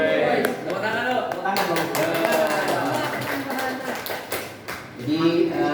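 Teachers at a junior high school training session give a short round of clapping. Sharp, uneven hand claps come in bursts while people talk over them.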